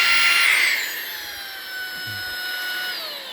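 Eufy HomeVac S11 cordless vacuum switched to maximum power, a loud steady motor whine with high tones that dip slightly in pitch, running alone without voices.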